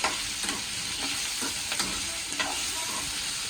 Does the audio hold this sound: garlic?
yes